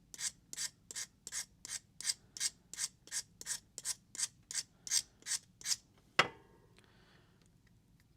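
A blade edge is sharpened by hand, with about fourteen rhythmic, evenly paced rasping strokes close up, then a single sharp knock and quiet.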